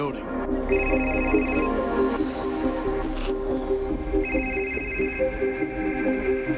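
A telephone rings in two electronic bursts separated by a short pause, sounding fairly close over a low murmur of background sound, before the call is answered.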